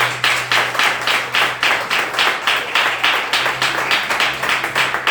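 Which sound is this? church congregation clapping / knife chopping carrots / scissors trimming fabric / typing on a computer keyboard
church congregation clapping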